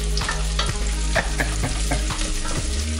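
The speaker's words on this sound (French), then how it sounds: "vous faites revenir, vous essayez d'imprégner l'huile sur les gnocchis" Small gnocchi frying in oil and being stirred in a pan, a close, steady sizzle broken by regular scraping strokes of a utensil, with a low hum underneath and no talking.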